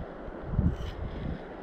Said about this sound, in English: God, the wind's starting to rip though.